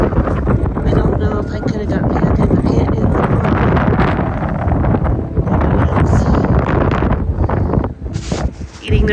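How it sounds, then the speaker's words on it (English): Strong wind gusts of roughly 50 to 60 mph roar across a horse ranch, a loud, continuous buffeting rush battering the microphone, with a person talking partly under it. "The gusts are probably between 50 and 60 miles an hour."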